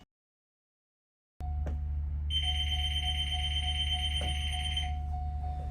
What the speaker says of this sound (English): That is how you turn off the child check alarm.